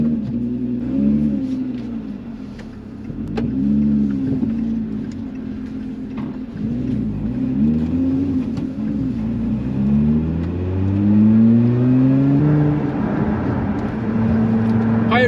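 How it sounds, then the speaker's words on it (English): A Lotus Emira sports car driving along Cotswolds country roads, heard from inside the cabin as a steady loud engine drone that rises and falls in pitch with each gear change and acceleration. "you now join us 10 days later in our Lotus Emira, driving some of our best country Cotswolds roads"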